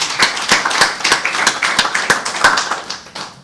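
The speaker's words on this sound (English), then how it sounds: "we can really give him a big round of applause." A small seminar audience claps in a steady, rhythmic run of distinct claps, several per second, close and fairly loud, fading slightly at the end.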